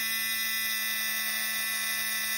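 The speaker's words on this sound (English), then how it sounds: "The timer just went off." A kitchen timer goes off after thirty minutes of mixing, a loud, steady electronic tone sounding continuously with no pause or speech.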